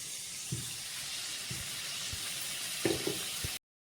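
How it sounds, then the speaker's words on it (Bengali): Chopped onion, capsicum and carrot fry in a pan with a steady, close sizzling hiss, broken by a few soft clinks and stirring knocks before it cuts off abruptly. "পেঁয়াজ, ক্যাপসিকাম, গাজরটা আগে ছোটো ছোটো করে কেটে ভেজে নিব।"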